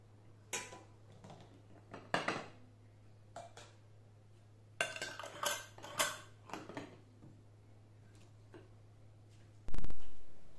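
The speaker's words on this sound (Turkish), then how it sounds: "kavanozluyorum sıcak sıcak ki güzelce kapaklarını vakumlasın" Glass jars being filled with hot pepper sauce and their lids closed, close clinks, taps and metallic clicks in irregular bursts, ending in a brief louder rumble, no talking.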